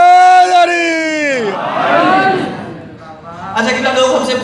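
At a Muharram majlis, a speaker's drawn-out call for a slogan is answered by a large crowd shouting the slogan back in a loud, roaring collective chant that swells and then fades.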